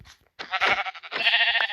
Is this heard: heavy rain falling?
no